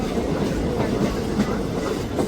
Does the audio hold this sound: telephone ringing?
no